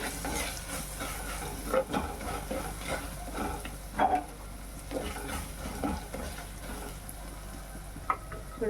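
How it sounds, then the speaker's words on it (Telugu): Spiced dried-fish curry with tender tamarind leaves being stirred in a pan, giving scraping spoon strokes and soft knocks over a low steady sizzle, with a few sharper clanks near the middle and end. "ఉప్పు కారం పసుపు వేసిన తర్వాత ఒకసారి ఇలాగా కలుపుకోవాలి"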